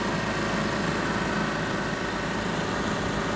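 A Jetwave Executive Silent hot water pressure washer, a dual-operator 3600 PSI unit, runs its engine steadily through its timed cool-down after the stop button is pressed, a constant close mechanical drone with no talk.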